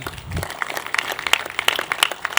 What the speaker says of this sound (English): So I just want everybody to give them a round of applause.